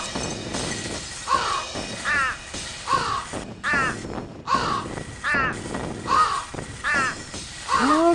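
Harsh crow caws repeat in a steady series of short bursts, roughly one every second, loud and close, from the game Thirty Flights of Loving, with faint crashing noise between calls.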